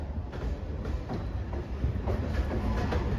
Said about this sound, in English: Dude, this is a long ass train.